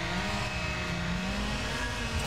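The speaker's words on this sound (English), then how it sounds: "Oh, over-revved it." A car engine over-revs in the street-racing video game Need for Speed Underground, a loud sustained high-RPM drone that stays near constant for the whole stretch, with no talk over it.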